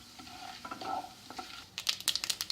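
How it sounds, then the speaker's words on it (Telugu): Tempering spices sizzle in heated oil in a pan for a vegetable curry, with scattered crackles that build into a dense burst of sharp popping and spluttering near the end, close and moderately loud. "ఆయిల్ వేడెక్కింది. ఇందులో పోపు దినుసులు వేస్తున్నాను."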